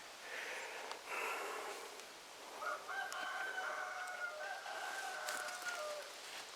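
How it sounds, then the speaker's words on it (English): A rooster crows loudly and close by, two long drawn-out calls in a row in a garden during a beet harvest, with no talk over them. "Yes, Mr. Rooster."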